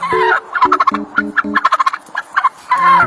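A turkey gobbles close by in rapid, bubbling bursts. Loud warbling calls open and close the sequence, with quick rattling notes between them.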